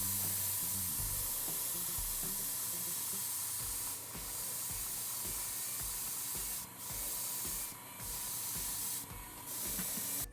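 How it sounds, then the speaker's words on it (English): Airbrush spraying Chrome Extreme Metal paint onto model kit parts for an MG Blitz Gundam, a continuous close hiss that dips briefly a few times near the end, with no talk. "next I'm going to put some of the Chrome Extreme Metal in the airbrush"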